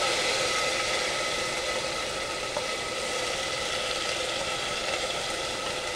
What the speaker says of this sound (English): I'm just gonna saute this